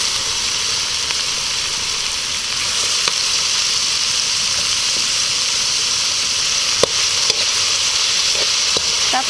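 Tomatoes fry in a pan for adobong kangkong with tofu, a steady, bright sizzle with occasional crackles and pops, close and continuous, with no talking.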